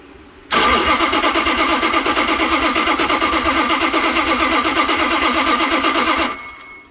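A 1970s 426 Hemi Pro Stock engine with dual distributors and twin Dominator carburetors cranks loudly and continuously for about six seconds in a fast rhythmic chug, then drops away to quiet, with no talking.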